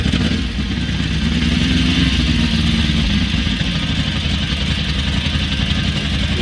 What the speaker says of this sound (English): Hear that dry clutch?